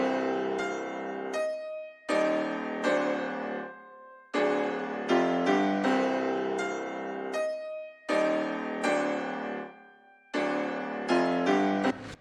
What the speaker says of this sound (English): So these 2 pianos on top of each other sound like this.